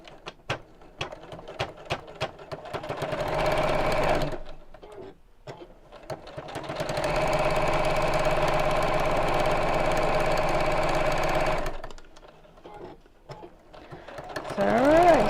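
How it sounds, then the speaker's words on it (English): A sewing machine runs in steady bursts, stitching down the side of a fabric cushion cover, with a close, even mechanical whirr broken by pauses; someone talks between runs. "Just going to sew down one side of this"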